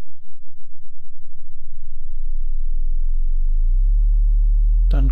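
A Bitwig synthesizer oscillator is set to a low 50 Hz tone and modulated by an LFO, so the pulsing wobble grows steadily faster until it merges into a steady, loud drone. A short burst of noise comes at the very end.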